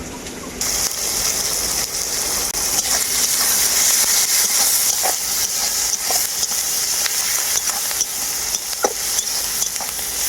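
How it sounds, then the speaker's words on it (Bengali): Onions sizzle and fry steadily in a pan with whole spices, a dense continuous crackle broken by occasional stirring scrapes, close and alone without talk. "পেঁয়াজগুলো হালকা করে ভাজা হয়েছে"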